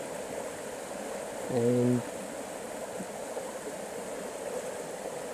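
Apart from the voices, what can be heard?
flowing water of Jacksons Creek, Organ Pipes National Park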